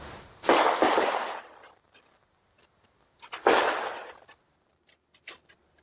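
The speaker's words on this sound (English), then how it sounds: "captures audio taking the moment the gunshots were fired" Two sharp, loud gunshots about three seconds apart near a University of Arizona campus, each trailing off, followed by a few fainter pops in a quiet outdoor setting.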